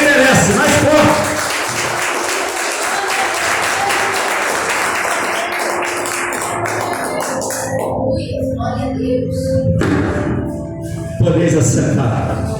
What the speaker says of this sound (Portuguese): dê para Jesus uma linda salva de palmas que ele merece